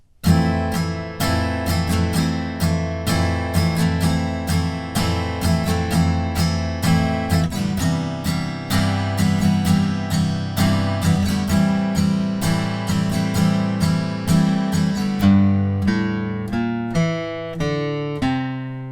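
A guitar strums the looping verse chord progression steadily for most of the stretch, then slows into a few separately picked, ringing notes at the end.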